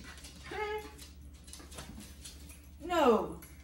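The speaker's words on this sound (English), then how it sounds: "What you growling for, little girl?" A small female dog whimpers and grumbles in short, close, high-pitched bursts, one near the start and a louder one near the end, over a quiet room.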